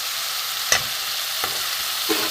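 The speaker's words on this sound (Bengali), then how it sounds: "মশলাটা কষা হয়ে গেছে, তেল ছেড়ে দিয়েছে।" Spice paste sautéing in oil that has separated, a continuous bright sizzle with three sharp stirring clacks of a spoon against the pan, no talking.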